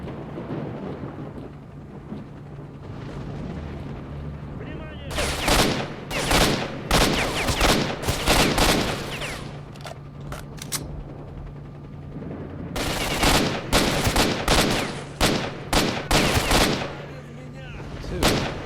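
Gunfire in the video game S.T.A.L.K.E.R.: Shadow of Chernobyl during a tactical assault on Spetsnaz soldiers: two dense bursts of loud, rapid shots, each several seconds long, separated by a quieter stretch with a steady low hum underneath.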